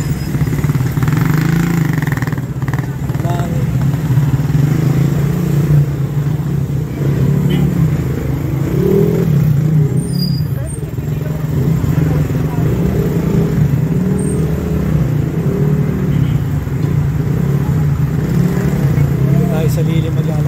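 Street traffic in BGC, with motorcycles and cars passing, makes a continuous engine drone and a constant hum near a busy crossing, heard steadily throughout.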